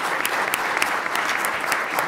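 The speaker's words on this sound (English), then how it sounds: "let's give one final round of applause" A lecture-hall audience at a scientific conference's Tyndall Lecture applauds the presenter, a loud, sustained round of many hands clapping with sharp individual claps standing out.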